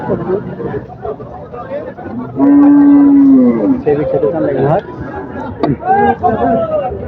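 A cow lets out a long, loud moo amid a busy cattle market crowd in North Bengal, with other animal calls and chatter around it.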